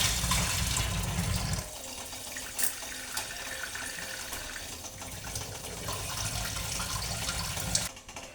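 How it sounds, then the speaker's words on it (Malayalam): Tap water running steadily into a sink while rice is washed, a continuous close splashing flow with a brief heavier burst at the start and slight changes as the stream is moved. "അരിയും കൂടെ ഒന്ന് നല്ലോണം കഴുകി"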